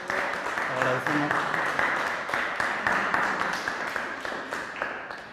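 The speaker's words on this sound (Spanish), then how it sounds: "le damos un aplauso al profesor Lino" An audience at a lecture on Morse theory applauds Professor Lino, producing steady, dense clapping from a roomful of people that fades slightly toward the end, with some voices mixed in.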